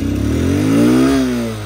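Honda CB200X motorcycle engine running just after a struggling start on a weak battery, a close, loud idle whose pitch rises briefly like a rev and then settles.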